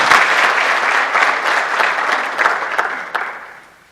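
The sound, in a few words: applause for the graduating class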